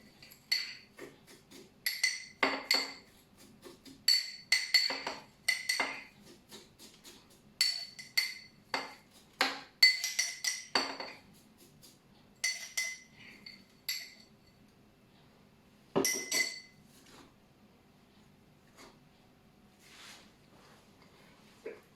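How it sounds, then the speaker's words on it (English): A spoon stirs a calvados cocktail with ice in a glass, making a series of bright clinks and rattles in short bursts with pauses between, close and fairly quiet, with no talking. "we're gonna give it a stir"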